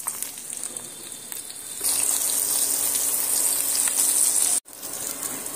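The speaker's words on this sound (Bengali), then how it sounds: "এবার আমি একে একে পটলগুলো তেলের মধ্যে দিয়ে উল্টে পাল্টে সুন্দর করে লালচে রং ধরিয়ে ভেজে নেব" Pointed gourd pieces fry in hot mustard oil, a steady bright sizzle that grows louder and denser partway through as more pieces hit the pan, then cuts out briefly before resuming.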